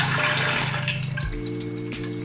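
Rose water poured little by little from a container into a strainer, a steady close splashing trickle that runs on continuously for a couple of seconds.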